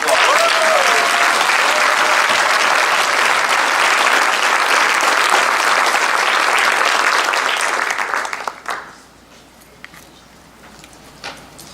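A school district's end-of-year faculty awards audience breaks into loud, sustained applause that fills the room for about eight seconds before fading to quiet, with a few scattered claps after.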